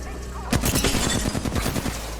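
Rapid automatic gunfire in a console shooter game, a dense loud burst of shots starting abruptly and continuing steadily close-up.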